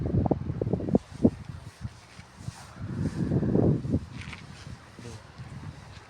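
Strong spring wind blows outdoors in gusty, rumbling bursts against the microphone, with rustling between the surges, loud and close, carrying on without talk.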